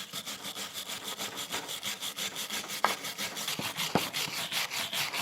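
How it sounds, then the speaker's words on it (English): A wire brush scrubbing a Honda Accord brake caliper bracket, rapid rhythmic back-and-forth rasping strokes, close and steady, with a couple of sharp metallic knocks. "Wire brush. And give it a once over."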